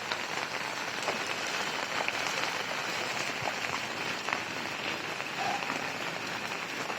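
Heavy rain pours steadily onto a flooded road at Chandan Road Naka, Nalasopara, a dense, even hiss of drops spattering on water without a break.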